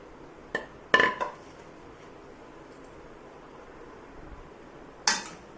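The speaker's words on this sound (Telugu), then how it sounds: "ఇప్పుడు ఒక కడాయి తీసుకొని" A kadai (wok) being taken out and handled in a kitchen: a few sharp metallic clanks and clinks close by, a quick cluster early on and one more near the end, with quiet between.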